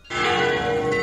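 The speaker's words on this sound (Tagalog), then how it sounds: "patunugin ng Manila Cathedral ang kanilang kampana" A single loud strike of the Manila Cathedral bell rings out and sustains with a bright, resonant hum.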